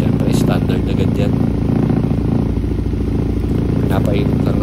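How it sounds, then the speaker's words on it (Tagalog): A motorcycle engine warming up steadily during tuning with a diagnostic tool attached, running loud and close with a constant rumble and some mechanical clatter. "Pinapainit lang natin ang makina para mas maitono natin"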